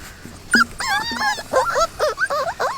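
A young puppy whines and whimpers in a run of high, wavering cries, close and fairly loud, rising and falling in short repeated bursts with no talk over them.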